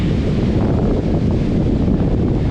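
Strong wind buffeting a microphone at high elevation on Daisen mountain in Japan, a loud continuous roar with no breaks.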